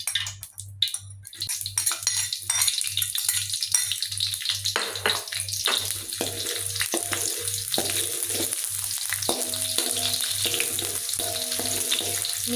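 Shallots sizzle in a little oil in a wok while making red sambal, a steady close frying hiss with occasional clinks of a utensil stirring and a low background hum.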